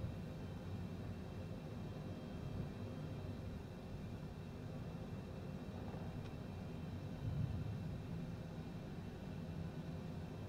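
Steady low engine rumble from a Cessna Citation business jet taxiing along a runway, a continuous broadband drone with no sharp events, close and unbroken.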